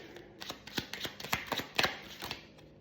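Playing cards being shuffled and handled at close range, a rapid run of crisp riffling snaps and flicks in uneven bursts with no voices over them.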